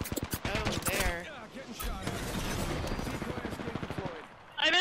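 Video game gunshots pop in quick sharp bursts early on, then fade beneath steady chatter from players talking over the action.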